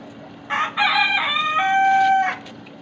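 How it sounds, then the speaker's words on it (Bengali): A live young desi rooster crows once, close and loud: a strained, rising then sustained call lasting about two seconds over a quiet household background. "বান্ধবীর বাড়ি থেকে মুরগি নিয়ে এলাম"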